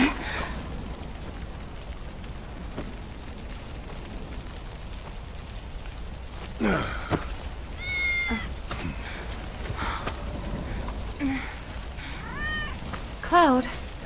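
Several short cat meows in Final Fantasy 7 Remake rise clearly over a low ambient bed and a few thumps, grouped in the second half of the clip.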